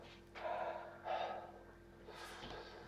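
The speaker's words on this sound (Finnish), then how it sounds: "Tästä syvää huohotusta." Deep, heavy panting after eating hot chili peppers: two long, breathy exhalations in a row, then a softer third breath, close and fairly quiet.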